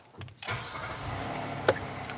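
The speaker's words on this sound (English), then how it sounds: "So let me turn the engine on just to show you." A 2024 Hyundai Palisade Urban engine starts with a brief crank, then catches and settles into a steady, quiet idle heard close from inside the cabin, with a small click near the end.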